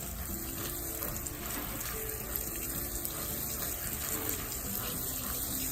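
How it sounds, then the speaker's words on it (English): Water runs steadily into a worm farm bin, a continuous near pouring and splashing stream that lasts throughout with no talk over it. "I'm probably going to do some more water in there"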